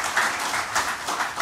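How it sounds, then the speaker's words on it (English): Audience applause at a defence sector conference: a brief, steady patter of many hands clapping in a hall, moderately loud with no voices over it. "Padma Bhushan, Dr. Saraswat, a big round of applause, ladies and gentlemen, for him."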